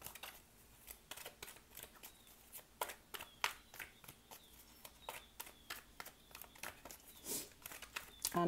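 Tarot cards shuffled by hand in a series of quick, crisp riffling and slapping bursts, fairly close and moderately loud, with a brief low voice or rustle near the end.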